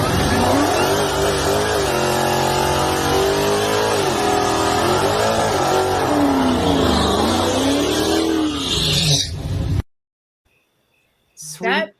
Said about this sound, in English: I love those burnouts